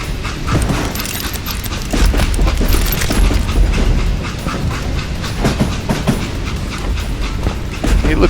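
A train in the western shooter game Gun runs steadily on its rails, with a continuous rumble and a rhythmic clickety-clack of wheels and rattling carriage mechanisms that stays loud and close throughout.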